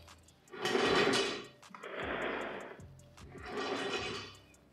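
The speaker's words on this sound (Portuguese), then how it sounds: "Agora vou deslizar a 4000 com estrela em aço cromado." An MK4000 ergonomic office chair with a chromed steel star base rolls back and forth across the floor, producing three broad, rumbling swells of caster noise, fairly close with no talking.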